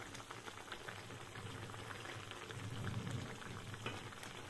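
Broth simmers and reduces in a pan with beef tenderloin and vegetables, a quiet, continuous bubbling and light sizzling crackle that swells slightly midway, with no voices.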